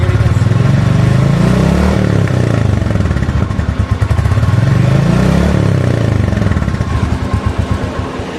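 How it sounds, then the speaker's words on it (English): A 2021 Royal Enfield Classic 350 single-cylinder motorcycle idles and is revved, its exhaust thumping loudly and close with a steady low pulse that swells twice in rising-and-falling revs. "the exhaust note is decent, I would say. It's not that much exaggerating"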